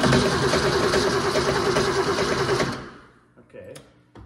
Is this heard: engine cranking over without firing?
yes